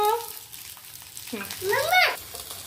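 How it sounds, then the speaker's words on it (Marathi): Colocasia leaf rolls (alu vadi) fry in oil in a pan with a faint, soft sizzle. A voice briefly rises over it. "आता ते सगळ्या वड्या फ्राय होत आहेत"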